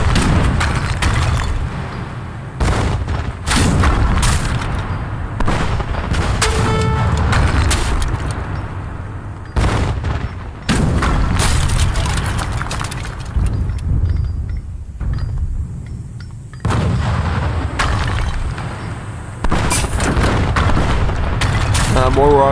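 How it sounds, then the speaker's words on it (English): Mortars bombard a fort in Age of Empires 3 Wars of Liberty, producing repeated loud, heavy booms in irregular bursts amid continuous rumbling battle noise across the whole stretch. "mortars into position, siege the fort."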